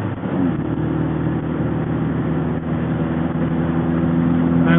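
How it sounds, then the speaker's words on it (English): A car with an 1800cc engine drives along with a steady, fairly loud engine drone and road rumble, continuous throughout with no voices over it. "It's an 1800cc engine in this one, so any fair flies along."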